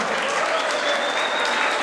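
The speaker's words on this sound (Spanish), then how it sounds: "Fuerte aplauso, por favor." Audience applause at a tribute ceremony in Spanish, with dense, steady clapping that fills the room at close range, a faint voice mixed in beneath it.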